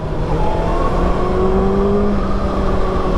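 A 2024 Kawasaki ZX-6R motorcycle engine hums steadily and loudly close by, its pitch rising slowly as it revs without any break.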